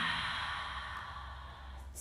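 A single long out-breath during a family yoga session, breathy and airy, exhaled slowly and steadily close to the microphone with no talking over it.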